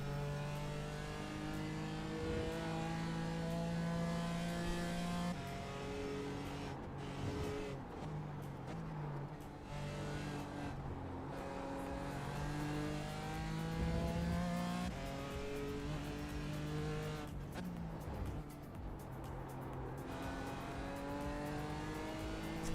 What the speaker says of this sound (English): The car sounds a bit like a faulty washing machine.